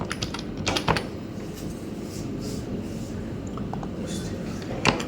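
Fingers typing on a laptop keyboard, soft irregular key clicks with a couple of sharper taps over a steady low room hum, close but fairly quiet and without speech.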